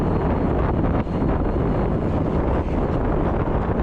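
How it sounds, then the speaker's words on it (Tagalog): A strong headwind buffets the microphone on a bicycle ride through the Laguna and Quezon province countryside, a dense, unbroken roar at close range. "Kaya iindahin na naman yung buka ng hangin, pambihira."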